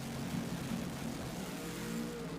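A drag racing truck launching down the strip at the 2024 World Cup Drag Racing event, heard as a steady, distant engine roar without clear spikes or talk.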